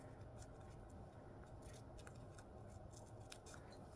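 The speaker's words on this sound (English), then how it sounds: "I'm going to cut that out." Scissors snipping through a paper card during a craft project, a quiet series of small, irregular crisp cuts over a soft steady background.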